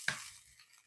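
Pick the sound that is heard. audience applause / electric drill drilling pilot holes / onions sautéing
onions sautéing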